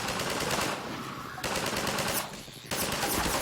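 Rapid automatic gunfire in Half-Life 2 Episode 1, with dense, loud bursts of shots and brief gaps between volleys.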